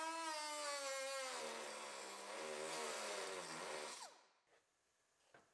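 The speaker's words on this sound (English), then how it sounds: "Part of the reason I'm doing this is to wear the die grinding disc down a little bit." Die grinder with a cutting disc slicing into a GMC Yukon's sheet-metal body panel during collision repair, a loud sustained high whine that drops in pitch under load, then stops with a few faint clicks afterward.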